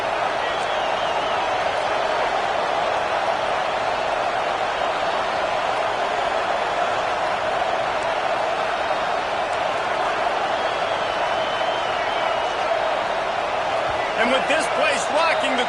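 A college football stadium crowd roars steadily and loudly for the whole stretch, a dense unbroken wall of noise at a game between the Mustangs and the Power Cats, with a brief extra swell near the end.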